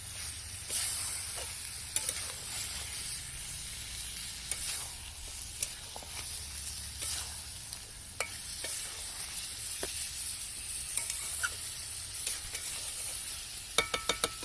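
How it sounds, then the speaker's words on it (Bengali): Curry sautés in a pan with a low, continuous sizzle, broken by scattered scrapes and taps of a spatula being stirred through it. "ভালোভাবে কষিয়ে ঢাকা দিয়ে ঢাকা দিয়ে দিয়ে ভালোভাবে কষিয়ে নেব আমি"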